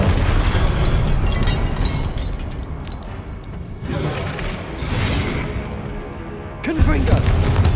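Incendio fire spell cast in Hogwarts Legacy gameplay, a loud roaring burst of flame and crackling impacts with booming pops, continuous through the clip and rising again near the end.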